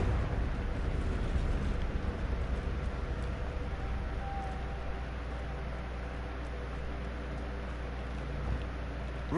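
A Confringo fire spell explodes in Hogwarts Legacy: a heavy, rumbling blast that fades into a long, hissing, roaring wash of sound, loud at first and then steady without a break.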